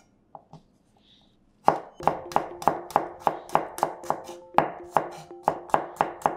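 A knife thinly slices garlic on a cutting board, a quick near run of about a dozen crisp, evenly spaced chops following a few light taps, with no talking.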